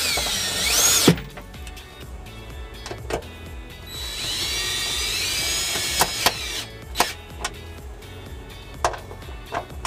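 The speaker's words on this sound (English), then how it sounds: "we're gonna reinstall the two 10 millimeter bolts that we removed earlier" A power tool runs bolts back into a 2017 Hyundai Elantra. Two whirring bursts come close and loud, one short and one longer, followed by sharp clicks and knocks of handling.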